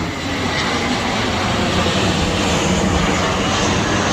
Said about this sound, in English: So another jet.